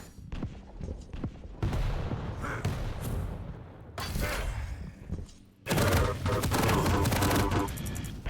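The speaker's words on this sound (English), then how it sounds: "Finish it off with the nail gun." Rapid nail gun bursts in a Quake Champions competitive match, loud clustered volleys of shots with heavy thumps and explosions, mixed with general arena action and occasional commentary.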